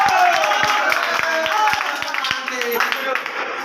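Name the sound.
people clapping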